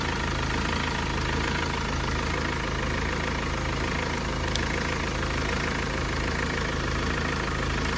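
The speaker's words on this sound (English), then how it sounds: "So the vehicle is started." A Mahindra Scorpio engine idles steadily after being jump started following four months of sitting, a continuous low rumble with a faint tick near the middle, heard alone without talk.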